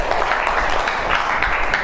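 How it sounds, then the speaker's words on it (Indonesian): Brief applause from a classroom of students for a classmate, a steady burst of many hands clapping close by, dense and continuous throughout. "Beri tepuk tangan untuk temannya."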